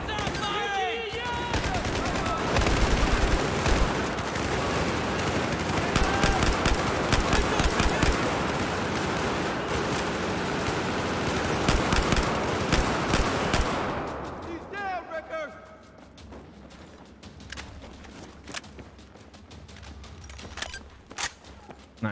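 Battlefield 4 campaign firefight: dense, sustained automatic gunfire and explosions roaring for about fourteen seconds, then dropping to scattered shots and thuds under a quieter background.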